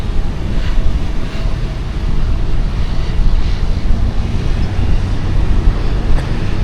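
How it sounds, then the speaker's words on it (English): A breeze blows along the Da Nang riverside, making a steady, rumbling wash of wind across the microphone with soft gusts throughout and no voices. "It's very cool, a nice breeze blowing."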